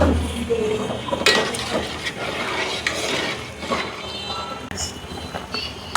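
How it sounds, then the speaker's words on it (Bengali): A fish head stir-fried in a little oil with salt, steady sizzling and frequent scraping and clanking of a spatula against the pan, close and fairly loud, with faint background noise. "তো দেখেন ভালো করে কষানো হচ্ছে এই যে মাছের মাথাটা।"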